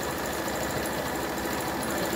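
A sewing machine stitching a wood frame clutch purse runs in a steady, even whir with a rapid needle rhythm, close and continuous, with no voices.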